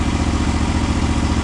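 A John Deere 318 lawn tractor fitted with a replacement Briggs engine runs at a steady idle, a loud, close, continuous low rumble with an even throbbing pulse and light mechanical clatter.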